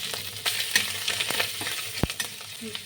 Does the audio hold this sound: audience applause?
no